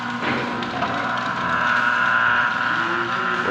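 Steady crackling hiss of stick welding with a 70-80 rod on an I-beam installation, continuous and fairly close, with no voices over it.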